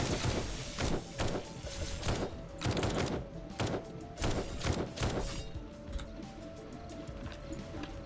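Video game gunfire rattles in a rapid series of sharp bursts, loud and close, spaced roughly every half second and then thinning into a few scattered shots toward the end.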